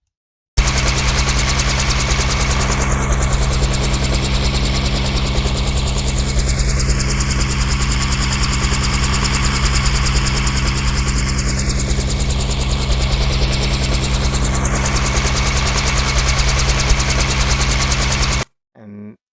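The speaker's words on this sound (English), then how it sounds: "that's like a helicopter flying around me" Loud, continuous chopping of helicopter rotors through a Razer Kraken Kitty Edition headset's surround sound, steady and droning, seeming to sweep around the listener before cutting off abruptly.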